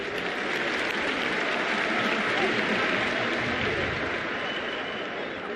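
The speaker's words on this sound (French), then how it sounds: "Ils méritent certainement nos applaudissements." Loud, sustained applause from a large crowd fills the whole stretch at the inauguration of the Abdoulaye Wade stadium in Diamniadio, Senegal, steady and dense throughout.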